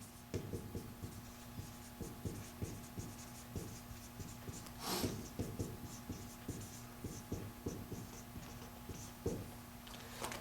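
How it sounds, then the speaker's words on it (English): Quiet, rhythmic pen strokes scratch and tap across a surface as a math answer is written out, a string of short scribbles with brief pauses and no talking. "So I'll write it this way."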